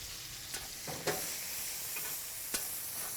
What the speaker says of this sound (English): So now we're gonna probably just baste this for a second.